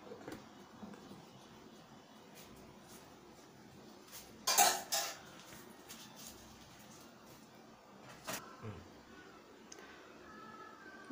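Roasted cashews are stirred with ghee in a pan, with a few sharp spoon-against-metal scrapes and clinks breaking a quiet background.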